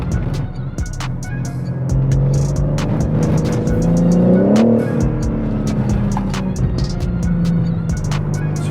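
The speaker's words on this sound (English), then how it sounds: "something you might be able to hear as I'm descending down this hill is the fake engine noises" Synthetic engine sound from a BMW M3 Competition G80 plays through the cabin speakers while the car descends a hill, a steady droning tone that swells and shifts in pitch, with sharp ticks and clicks scattered over it.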